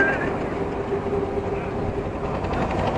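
A trawler boat's engine drones steadily as it travels along a canal near a floating guava market in Bangladesh. The hum is continuous and fairly close, and a voice talks over it.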